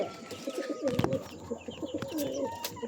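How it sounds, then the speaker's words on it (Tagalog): Pigeons cooing close by in a loft where eggs have been laid, a soft repeated throaty rolling coo with a few faint chirps and light rustles, no talk. "Tingnan niyo mga kalapatids, meron ng itlog ng ating kalapatids."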